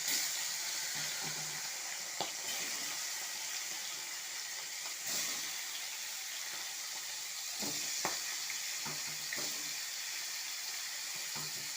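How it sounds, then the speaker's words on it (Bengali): Pieces of rohu fish frying in hot oil give a steady, moderately loud sizzle that runs unbroken throughout, with a few soft clinks and bumps from the pan scattered over it and no talking. "এখন আমি মাছগুলো সব এক এক করে দিয়ে দেবো।"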